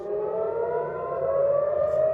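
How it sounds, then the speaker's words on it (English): A steady, rising air raid siren wails continuously over Jerusalem and Tel Aviv during an Iranian drone and missile attack, loud and sustained, its tone climbing gradually with no other sounds. "Sirens wailed for much of the night as Jerusalem and Tel Aviv came under attack"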